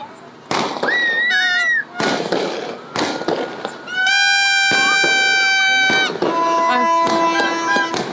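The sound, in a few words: fireworks and firecrackers exploding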